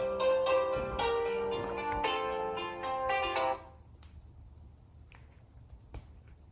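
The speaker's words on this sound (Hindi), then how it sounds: "क्षमा कीजिएगा, ये मेरी माँ का फ़ोन है।" A mobile phone ringtone plays a bright, repeating electronic melody at moderate volume for about three and a half seconds, then cuts off, leaving quiet room tone with a few faint clicks.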